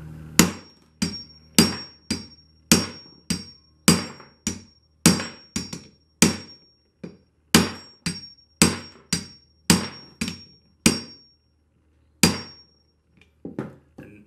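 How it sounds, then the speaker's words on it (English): A steel hammer strikes a Pittsburgh impact screwdriver bit again and again in a fairly steady rhythm, with about twenty sharp, ringing metallic whacks that are close and loud, each with a short decay, and no talking. "just whack it with a hammer"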